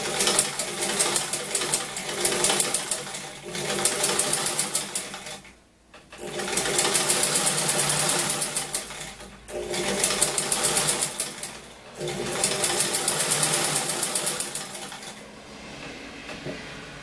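A sewing machine stitches the leg seam of a jumpsuit in four steady bursts of rapid, even whirring, close and loud, with brief pauses between runs and no talking.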